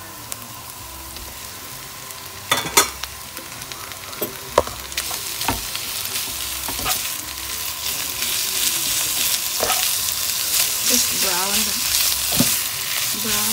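Ground beef frying in a pan for a vegetable stir-fry, a steady sizzle that builds louder over time, broken by repeated knocks and scrapes of a utensil against the pan.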